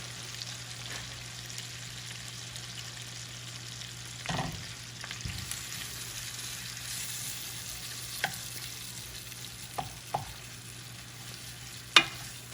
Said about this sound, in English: Let that saute down.